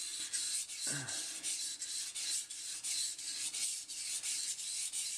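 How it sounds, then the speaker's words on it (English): A Moritaka kitchen knife is stroked back and forth on a whetstone in an even, continuous rhythm of soft gritty rasps, close and fairly quiet, with a brief low knock early on. "keep your wrist firm as you go back and forth, because this will make it wobble"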